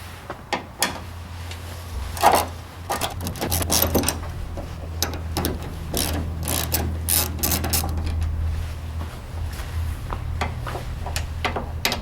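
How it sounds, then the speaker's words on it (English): A ratchet with a 5/16 socket removing tail light screws on a 2014 Ford SVT Raptor, a run of quick, close clicking ratchet strokes and small metallic taps over a low hum. "I'm going to take out the tail light here, and this is held on with these two screws. I'm going to need a 5/16 socket for this as well."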